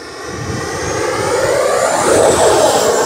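XFly Alpha 80mm model jet climbing away after takeoff, a loud, steady jet-like roar that swells and sweeps in pitch as the plane passes close by.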